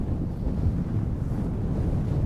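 Steady, heavy wind buffeting the microphone, a continuous low roar with no breaks and no voices.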